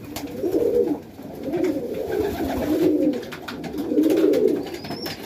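Highflyer pigeons coo in a loft, giving soft, low, rolling calls that repeat in steady bursts about every second and a half. Some faint background noise sits beneath the birds, and no one speaks.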